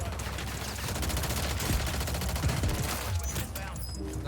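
Rapid automatic gunfire in Call of Duty Warzone, a dense fusillade of close, loud shots rattling continuously for a few seconds with game noise behind it.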